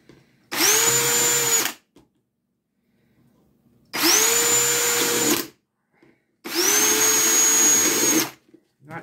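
A power drill drilling holes in pots whirs in three separate bursts of about a second each, with pauses of near silence between them, close and loud.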